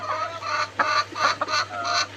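Young laying hens cluck in short, uneven bursts close by in a farm shed, several quick calls in a row over a faint steady hum.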